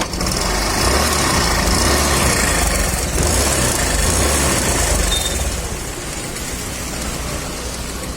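TVS Scooty Pep Plus scooter engine running at a steady, loud idle throughout, a continuous buzzing drone that eases slightly toward the end, with no talking.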